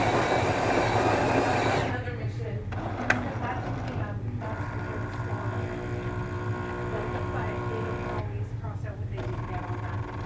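A Jura S8 espresso machine's grinder whirs loudly for about two seconds and then stops abruptly, leaving a quieter hum with a brief click and a voice talking.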